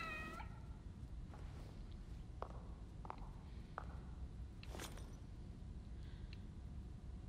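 Several short video game cat meows spaced across the clip over a low rumbling background, fairly faint and close.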